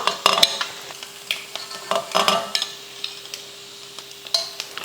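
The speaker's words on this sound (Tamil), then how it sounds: "ரெண்டு பக்கமும் அந்த மசால் படுற அளவுக்கு வறுத்துக்கிட்டால் போதும்" Masala-coated boiled eggs fry in a pan, giving a soft background sizzle broken by sharp, uneven scrapes and clicks from a spatula or spoon moving them about.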